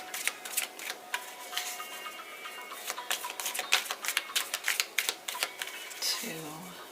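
Tarot cards shuffled by hand in a reading, a run of crisp rapid clicking and riffling taps, close and fairly soft, with a brief voice near the end.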